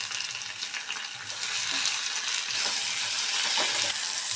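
Green chillies, onion, garlic and a large tomato fry in oil in a pan with a steady, close hiss and crackle that grows a little louder partway through, and no voices.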